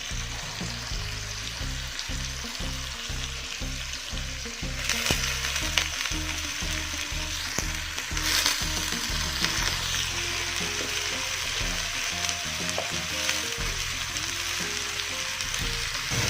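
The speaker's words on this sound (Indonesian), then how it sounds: "Kemudian langsung saja kita masukkan kolnya ukuran 1/4 kg yang sudah kita potong-potong dan sudah kita cuci bersih." A quarter kilo of chopped, washed cabbage hisses and crackles in a pan without added water, with rhythmic spatula knocks and stirring clatter over steady frying noise, sizzle growing louder partway through.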